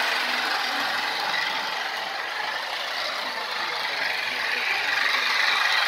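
A classic remote-control Christmas train set with an older, bigger motor runs along its track pulling a string of cars, giving a steady close mechanical whirring and rattling rumble throughout with no voices.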